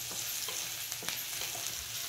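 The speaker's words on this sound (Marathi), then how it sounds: "छान असं परतून घ्यायचं।" Zunka, a gram-flour dish with turmeric and coriander, being stirred and sautéed in a pan: a soft continuous sizzle with repeated scraping strokes of the spoon, fairly quiet and close.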